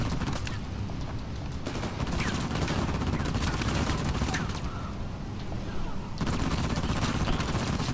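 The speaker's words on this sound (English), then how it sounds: "Shoot at her!" Gunfire in the video game Uncharted, dense loud bursts of automatic fire and rapid shots rolling on continuously with brief dips, dominating the mix.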